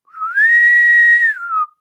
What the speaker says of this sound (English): that boatswain whistle